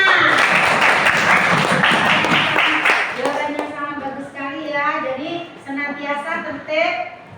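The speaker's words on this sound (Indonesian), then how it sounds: "Tepuk tangan anak-anak." Children in a classroom burst into loud clapping for about three seconds, then the applause stops and an adult voice talks.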